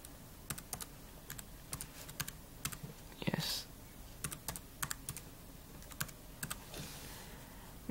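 A MacBook Pro 13-inch keyboard is typed on, with sharp, close key clicks in irregular small bursts, plus a brief soft rustle midway and a low murmured voice in the background.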